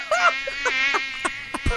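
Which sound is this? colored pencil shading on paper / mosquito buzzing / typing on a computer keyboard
mosquito buzzing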